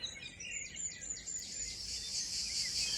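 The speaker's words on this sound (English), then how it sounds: "I play a tape of cicadas here to bring us to the south of France" Recorded cicadas played back in a garden, shrill rasping trills rising and swelling into a dense, steady high chorus near the end, with no talking.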